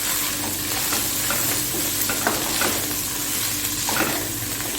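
Crushed red chillies fry in a pan, a dense, continuous sizzle up close, broken by light spoon taps and stirring scrapes, with no voices.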